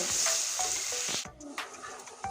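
Onions frying in a pan, a bright hiss of oil with repeated scraping stirs and a brief dip before the sizzle resumes with more stirring.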